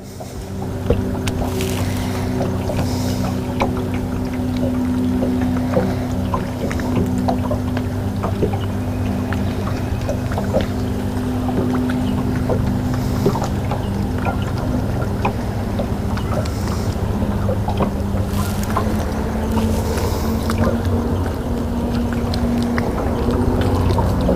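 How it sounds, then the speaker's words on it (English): A boat motor hums steadily on the water with low engine drone, splashing and wind noise throughout, no talking. "I need to slow the boat down."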